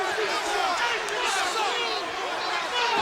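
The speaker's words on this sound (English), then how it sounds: "Hostile crowd here in Columbus" A hostile arena crowd of wrestling fans in Columbus shouts and jeers in a dense, continuous roar, with overlapping yells rising and falling throughout at close, loud level.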